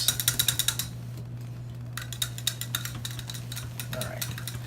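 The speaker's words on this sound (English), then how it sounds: "Now we're just going to stir this and stir it and stir it." A spoon stirs soap mixture by hand in a small crock pot, with quick rhythmic scraping clicks against the pot in short bursts over a steady low hum.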